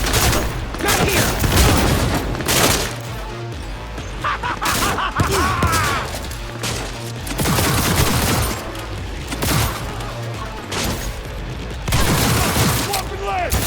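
In a Cyberpunk 2077 shootout, dense bursts of rapid gunfire and booming shots crackle almost nonstop, loud and close, with voices talking over the battle.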